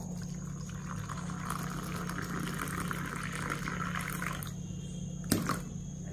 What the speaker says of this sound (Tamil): லைட்டாக வாமான சுடுதண்ணி ஊற்றிக்கிடுவோம்.